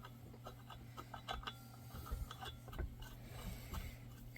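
A wrench tightens a nut on a threaded rod while sleds are being readied, giving soft, irregular ratcheting clicks and metallic ticks against a low, steady background hum.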